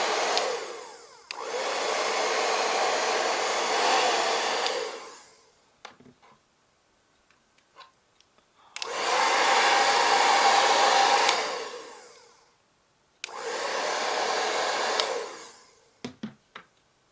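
A handheld hair dryer blows hot air onto the sides of hair styled with a strong-hold liquid gel, in three loud, steady bursts of several seconds each, with short clicks and handling noises in the pauses between them.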